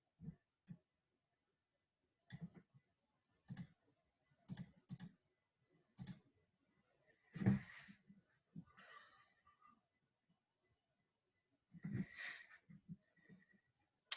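Computer mouse clicks on a scouting app map during a robotics match, sharp isolated clicks arriving singly and in quick pairs with pauses between, close and fairly quiet, with a brief rustle near the middle.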